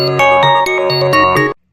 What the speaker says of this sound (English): What is the best childhood ringtone? I'm gonna go first. Chartreuse.